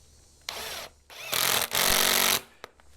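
A power drill drives a screw into a wooden lathe faceplate in a woodturning shop. It runs in several loud, harsh bursts of whirring with short pauses between them, followed by a sharp click at the end.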